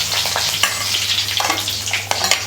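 Curry leaves dropped into hot oil with cumin for a Tamil sukku milagu kuzhambu, giving a steady close sizzle and crackle with a few sharper pops, no voices.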